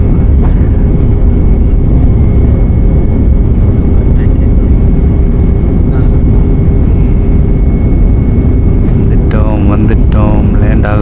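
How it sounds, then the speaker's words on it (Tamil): Steady, loud engine drone and rushing air inside a large passenger airplane descending to land, constant throughout with a short burst of voices near the end. "வந்துட்டோம் லேண்ட் ஆக போகிறோம்."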